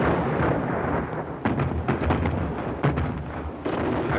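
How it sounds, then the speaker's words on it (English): Heavy, rumbling booms of gunfire in a continuous barrage, loud and close, with several sharper cracks standing out. "The colonel's kind of early with his gunfire."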